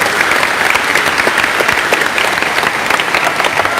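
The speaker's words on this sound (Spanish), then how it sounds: "Un aplauso para el hermano." Dense, steady audience applause fills a debate hall between two pastors and a Catholic priest, loud and close, with a crowd clapping continuously and no voices on top.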